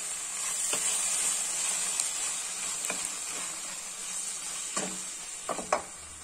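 Ripe small tomatoes sizzling in a pan with sautéed onions, a steady bright frying hiss with a few soft stirring knocks toward the end, close and moderately loud with no talking.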